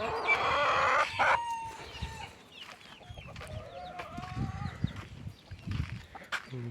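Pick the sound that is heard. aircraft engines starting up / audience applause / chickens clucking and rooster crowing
chickens clucking and rooster crowing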